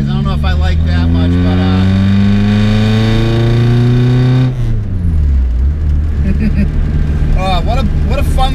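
Mk1 VW Rabbit diesel engine running loud while driving, a harsh droning note climbing in pitch through a gear, dropping at a shift, then carrying on steady under occasional talk.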